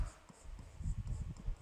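Handwriting at close range, pen or chalk strokes scratching in short quiet bursts during a Hindi grammar lesson, soft and intermittent with no talk over it.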